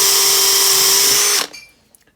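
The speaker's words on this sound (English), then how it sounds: "That's all the holes drilled there for that." A power drill bores into aluminium in a home workshop, loud and steady with a high whine, then cuts off abruptly and spins down to quiet.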